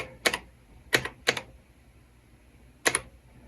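Four sharp, separate key presses on an MSX retro computer keyboard with sticky keys, loud and close, spaced irregularly with quiet gaps between them and no talk.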